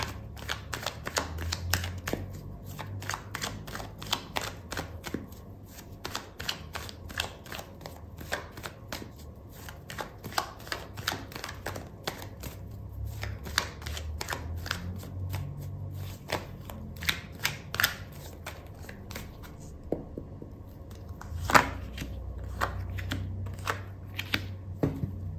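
Tarot cards are shuffled close by in a steady, continuous riffling and flicking that runs throughout with no talk.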